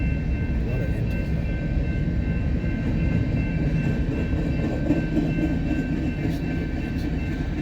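A freight manifest train rolls past in a steady, dense rumble of wheels and cars, with a faint high steady whine above it and low voices under the noise.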